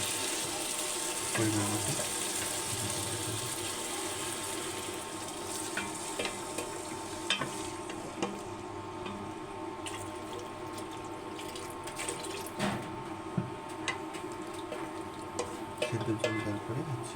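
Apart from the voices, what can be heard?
boiled water being poured into egg curry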